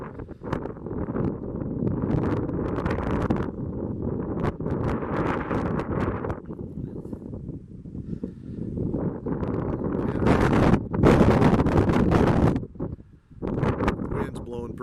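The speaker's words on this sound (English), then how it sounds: "Wind's blowing pretty good." Wind gusting steadily across open farmland in western Minnesota, a loud, continuous rushing roar with buffeting bursts that swell and drop, strongest in brief surges near the end.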